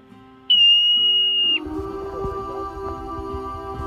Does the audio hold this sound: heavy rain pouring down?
no